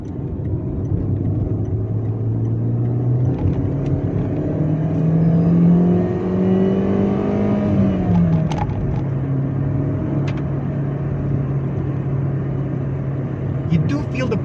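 A Volkswagen Santana's engine pulls while driving, a mid-pitched drone rising steadily in pitch, dipping as the car shifts, then holding a lower steady hum, with road rumble beneath and someone talking over it.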